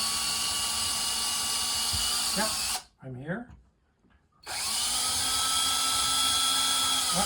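A high-pitched power drill whines steadily while drilling through a wall to install a TV wall mount, cuts out briefly while someone speaks a few words, then starts up again.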